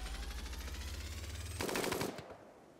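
Rapid automatic gunfire rattles in RimWorld, a steady buzzing burst of shots that ends in a harsher, louder crackling flurry before cutting off, with no voices.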